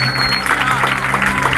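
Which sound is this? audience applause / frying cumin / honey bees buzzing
audience applause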